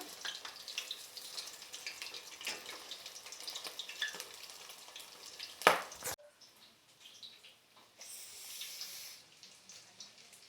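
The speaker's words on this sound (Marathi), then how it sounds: "असे भाजून घ्यायचे एकदम क्रिस्पी होईपर्यंत" Food frying in hot oil until crispy, a faint, steady crackle and sizzle interrupted by one sharp clatter partway through.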